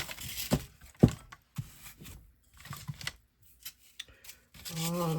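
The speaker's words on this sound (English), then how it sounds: "And just cut off the excess." Scissors snip through excess floral foam during a thrift-flip craft, giving a few short, crisp cutting and rubbing sounds spaced out over several seconds, close and fairly quiet, with no talking.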